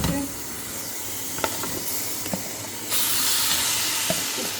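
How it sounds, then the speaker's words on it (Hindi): Marinated chicken roasting in a hot pan for cutlets, a constant loud steamy hiss with a few sharp pops and crackles, rising in intensity partway through. "ये अब हम इसको रोस्ट करते हैं।"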